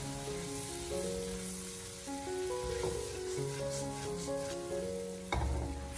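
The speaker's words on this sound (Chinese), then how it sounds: "用锅铲给它持续的翻炒一下，把它翻炒均匀，让所有的味道充分的融合在一起" Garlic prawns seasoned with salt and soy sauce are stir-fried with a spatula over low heat, a soft continuous sizzle with light scraping, set under steady background music and ending in a louder clatter.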